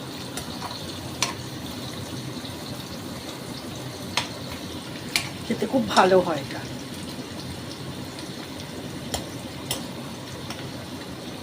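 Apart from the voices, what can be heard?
bitter gourd frying in a pan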